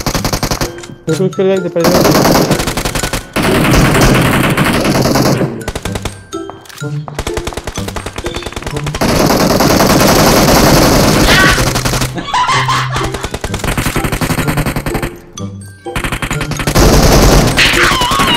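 Rapid automatic gunfire in the BGMI battle royale game crackles in long, loud bursts separated by short pauses, with a person talking briefly between volleys.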